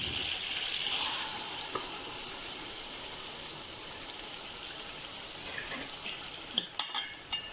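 Meat fries in a hot pan, giving a steady close sizzle with light scraping and stirring clatter near the end and no talk.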